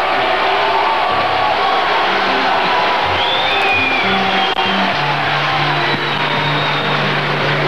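Large festival audience at a 1967 Brazilian popular music song final booing, a dense roaring crowd of shouts and jeers sustained loudly throughout with scattered whistles.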